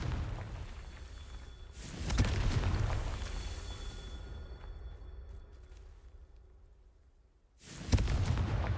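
Two booming explosions from the Confringo blasting spell in Hogwarts Legacy, each a loud broadband burst with a rumbling tail, separated by several seconds of quieter ambience.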